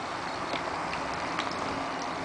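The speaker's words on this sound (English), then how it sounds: "Once the oil is hot enough, just slip some pakoras in." Pakoras frying in hot oil make a steady, even sizzle with faint bubbling pops, close and continuous with no talking.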